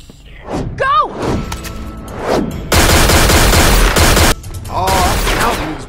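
Gunfire in the video game Tales from the Borderlands, a loud sustained burst of rapid shots midway with scattered thuds around it, while characters talk and shout over the action.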